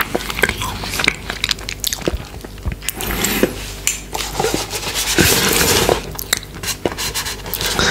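Someone bites and chews yuzu mochi ice cream close to the mic, with sticky, squishy chewing, sharp bite clicks and soft smacks repeating irregularly, along with occasional light utensil clinks.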